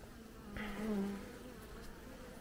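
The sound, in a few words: Caucasian honeybee colony buzzing during hive inspection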